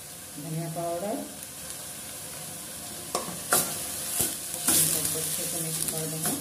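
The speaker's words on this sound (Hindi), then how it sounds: "अच्छे से मिक्स कर देंगे" Kashmiri red chilli and coriander powder are stirred into onions frying in a pan for rajma masala, giving a steady close sizzle broken by a few sharp spatula scrapes and clinks.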